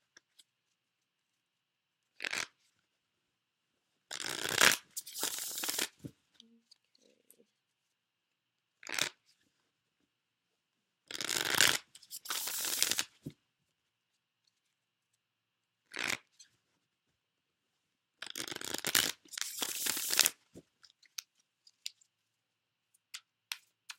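A deck of tarot cards shuffled by hand in short riffling bursts, several quick rounds separated by pauses, close and crisp with no talking over it.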